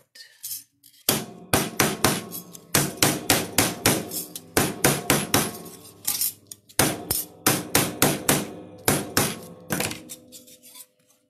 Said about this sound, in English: rawhide mallet a little bit to flatten it out any further